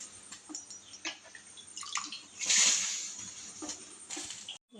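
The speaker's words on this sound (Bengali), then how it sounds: "8 ঘন্টা আগে আমি চালটা এবার জলের মধ্যে দিয়ে দেবো।" Soaked rice tipped into hot water for home-made biryani, a soft pouring splash and slosh at close range, rising to a brief rush near the middle and settling into light trickles and drips.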